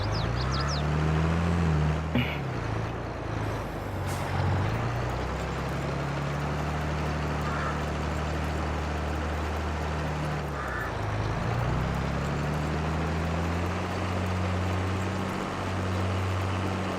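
A John Deere tractor cultivating fields in Farming Simulator 22 gives a steady, droning engine hum with a low, even tone that shifts slightly as it runs, loud and constant throughout.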